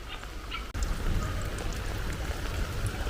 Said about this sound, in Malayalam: ചെറിയ ചാറ്റമഴ തുടങ്ങിയിട്ടുണ്ട്